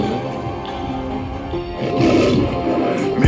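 A lion roar effect opens a French rap track, a rough, sustained growl swelling in the middle of a dense mix of beat and music that carries on loudly under and around it.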